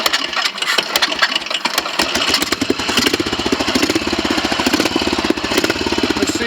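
A Royal Enfield 500 Bullet Trials motorcycle's single-cylinder engine runs on a test ride, thumping in a steady rapid rhythm that grows fuller and louder as it pulls away, close and continuous.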